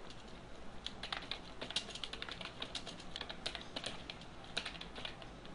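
Quick, irregular clicking of keys on a computer keyboard while writing PHP code, fairly close but quiet, with short bursts of keystrokes and brief pauses, no voices.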